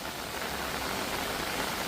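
Heavy rain pours down steadily at an outdoor temple site, a dense, even hiss of water on surfaces filling the whole moment, close and loud with no voices.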